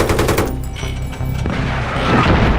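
Loud, close gunfire in the shooter Battlefield 3, rapid automatic bursts with booming low-end impacts continuing through the whole moment, no clear talking.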